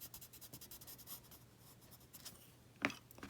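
A colored pencil scratches across paper in short repeated strokes while blending shades on a stamped Christmas card, soft and close, with a sharper tap near the end.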